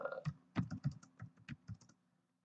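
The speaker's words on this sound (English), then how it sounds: "I always do some jacked up typing when I'm doing this up here." Quick bursts of keyboard typing, a dozen or so crisp clicks close up in an uneven rhythm, then stopping into quiet.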